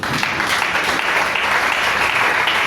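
A church congregation applauds in steady, dense clapping that fills the whole moment, a loud continuous wash of many hands during a Sunday worship service.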